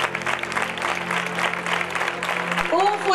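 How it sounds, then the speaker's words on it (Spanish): Applause for the newly crowned queen at the 2014 Facinas fair coronation, a dense steady patter of clapping from the crowd, with a low hum underneath and a brief voice near the end. "Un fuerte aplauso para nuestra nueva reina."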